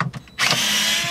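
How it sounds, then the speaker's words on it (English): A T25 Torx driver spins out screws from a car radio bracket on an Audi, with a short, steady, close whir of the driver motor after a brief quiet pause. "you're gonna grab a T25 Torx to remove these 2 screws"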